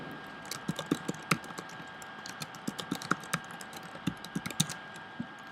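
A computer keyboard is typed on to fill in a web form's email and password fields, with irregular, close, crisp keystrokes over a steady low hum and no talking.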